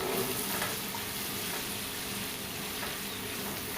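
Vegetables frying in a pan for vegetable khichdi, a steady broadband sizzle holding at an even level throughout with faint stirring scrapes and no voices.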